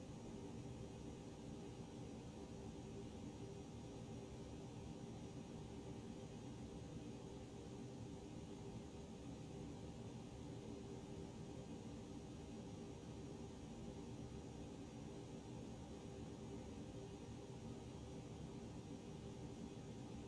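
Toliss A320-251 airliner engine starting in the X-Plane 12 flight simulator, heard as a steady, broadband roar and whine that holds evenly throughout, with no talk over it.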